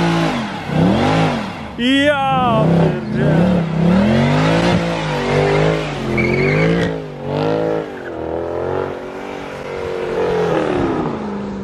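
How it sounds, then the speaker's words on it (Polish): A Mercedes-AMG C63 with a 457 hp engine roars nearby, revving up and down in repeated loud swells with tire squeal, while a man exclaims briefly. "To jest właśnie ryk silnika, słyszeliście?"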